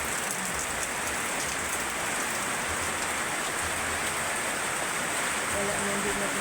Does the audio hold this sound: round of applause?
no